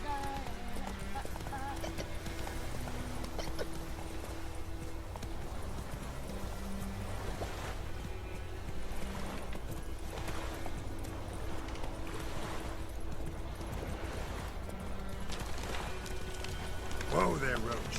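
Horse hooves clip-clop steadily at a gallop in The Witcher 3 game, a continuous rhythmic beat under background music and a voice talking over it.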